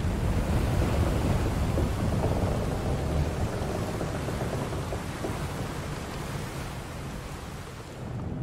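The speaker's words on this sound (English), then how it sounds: "We're in for a proper storm, it seems." A stormy ocean scene in the video game Final Fantasy XIV Dawntrail: a steady, loud wash of surf and rain with low rumbling thunder rolling underneath throughout, no voices.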